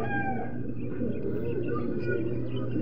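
Racing pigeons in a loft keep up a continuous, busy chorus of cooing and bird calls, a dense layer of overlapping birds close by with faint background noise.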